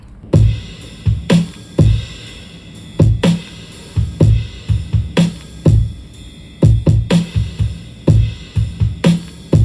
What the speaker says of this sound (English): The drums in the chorus are probably the most interesting to me.